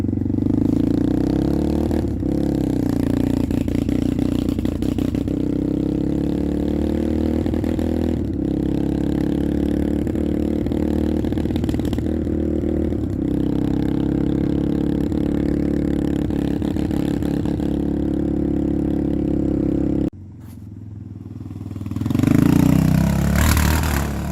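A Yamaha Raptor 660 ATV engine with a rebuilt top end and a fault that makes it die past half throttle runs steadily with clattering, then cuts out abruptly near the end before a brief rough surge.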